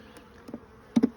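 Honeybees around an open hive during an inspection, a couple of short close buzzing passes as single bees fly past, quiet between them.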